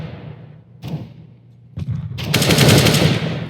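Gunfire in a CS:GO match on Mirage: a sharp shot, then another after a pause, then a loud rapid burst of automatic fire that keeps ringing out, close and alone without talk.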